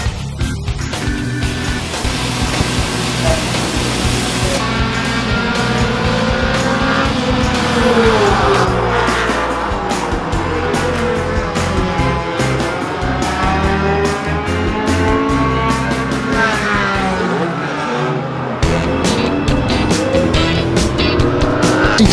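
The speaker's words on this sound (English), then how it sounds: "Car 17 car sends the 8 of Peter Hatton around." Race cars roar around Flamboro Speedway in a continuous loud engine drone, with rising and falling passes, revving and brief tire noise throughout, no talk.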